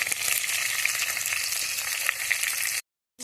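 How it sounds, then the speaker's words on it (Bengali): Bata fish frying in oil in a pan gives a steady, loud, close sizzle with crackling pops for nearly three seconds, then stops abruptly into silence. "মাছগুলো কিন্তু আমার ভাজা হয়ে এসছে"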